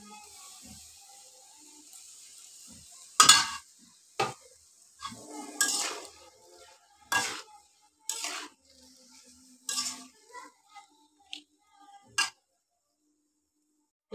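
Onion paste frying in a pan while being stirred, a steady soft sizzle broken by a series of sharp scraping spoon strokes against the metal, each stroke distinct and fairly close.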